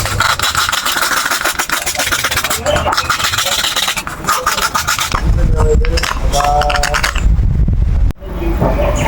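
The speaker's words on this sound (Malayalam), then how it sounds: "നമുക്ക് ഇതിന്റെ ഉള്ളിലെ സാധനമൊക്കെ ചിരണ്ടി കളയാട്ടോ" A hollow coconut shell is scraped out from the inside, giving a close, dense rasping and grating that runs almost without pause and shifts to a rougher, lower scrape toward the end.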